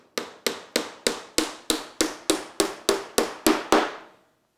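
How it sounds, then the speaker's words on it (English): Twelve crisp, evenly paced hammer strikes driving regular nails into booth trim, each hit close and sharp with a brief ring, in a quiet room. "you can just use regular nails and just drive in, 2 to 3 every booth"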